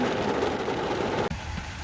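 Heavy rain pours down outdoors in the Netherlands as a dense, loud, continuous hiss, briefly cutting out near the end before resuming slightly thinner, with no talking.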